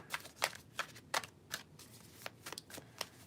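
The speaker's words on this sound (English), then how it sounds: "let me know when to stop shuffling for the masculine and the feminine" Tarot cards are shuffled by hand in a quiet room, a series of soft, quick riffling bursts in an uneven rhythm, close but faint.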